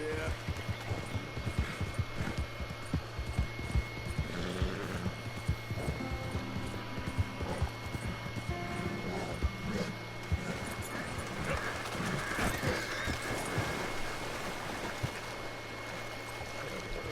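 Horse hooves clip-clop in Red Dead Redemption 2, a steady rhythmic patter of hoofbeats under game ambience and a persistent low hum. Someone talks over it at times.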